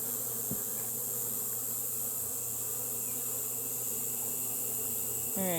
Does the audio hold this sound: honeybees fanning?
yes